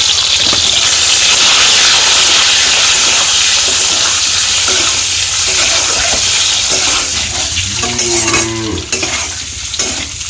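Loud, steady sizzling from a frying pan, close by, with some scraping and stirring noises toward the end.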